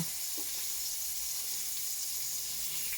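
Fish sizzles in a pan with a steady, close hiss of frying oil and faint crackles throughout.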